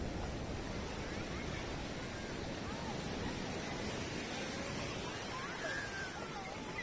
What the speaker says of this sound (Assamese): তো গাইজ দেখিছে কিমান ডাঙৰ ডাঙৰ ঢৌ আহি আছে।